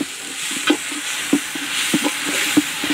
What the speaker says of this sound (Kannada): ಈರುಳ್ಳಿಯನ್ನ ಫ್ರೈ ಮಾಡ್ಕೊಳ್ಳೋಣ ಈಗ ಇದಕ್ಕೆ ಟೊಮೆಟೊನ ಹಾಕೊಳ್ಳೋಣ ಈಗ ಇದಕ್ಕೆ ಶುಂಠಿ ಬೆಳ್ಳುಳ್ಳಿ ಅನ್ನ ಹಾಕೊಳ್ತಾ ಇದ್ದೀನಿ